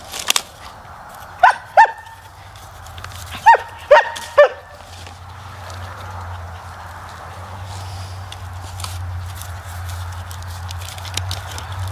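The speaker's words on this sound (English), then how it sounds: "Excuse the barking." A dog barks in short bursts, a pair and then a quick run of several, close by in a side garden, followed by a steady low hum with faint scattered noises.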